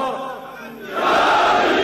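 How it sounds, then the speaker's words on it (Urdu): A crowd at a religious sermon raises a loud, unified 'Naara-e-Haidari' chant that swells after a brief quieter stretch of mixed voices, sustained and energetic. "نعرے حیدری بل کر کے نعرہ لاؤ"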